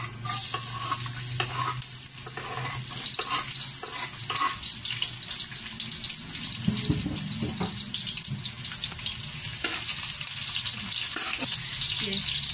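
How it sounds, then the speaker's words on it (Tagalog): Garlic and onion sautéing in a pan for pancit habhab, a steady moderate sizzle with occasional scraping stirs and clinks running throughout. "Tayo po ay magigisa na. Lalagay na po natin ang bawang at sibuyas."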